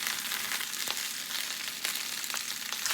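Beef caramelizing in a Moroccan tagine sizzles steadily, a dense close frying hiss with a few sharper pops and no voices.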